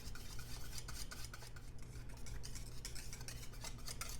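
A small whisk scrapes and swirls steadily around the bottom and corners of a saucepan of chocolate cake topping on the stove, a soft continuous rhythmic brushing, close but quiet, with no voices.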